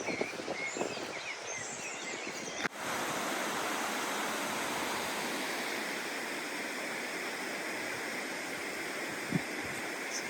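Loud rushing water from a mountain stream or waterfall along the Camino de Santiago, a constant broadband roar after a brief rustle and bump near the start, filling the scene close up with no voices.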